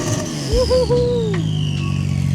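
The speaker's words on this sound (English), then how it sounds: "you hear those turbos spooling up?" Supercar engine revving up from a private Florida supercar vault, with turbos spooling, a rising whistle and a loud, close roar that climbs over a couple of seconds.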